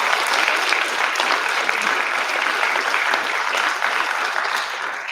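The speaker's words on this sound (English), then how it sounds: "So let's give them a round of applause." Applause from a school community audience honoring swimmers headed to the state championships, a steady dense clapping that holds at even loudness for the whole stretch without a break.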